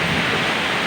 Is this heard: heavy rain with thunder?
yes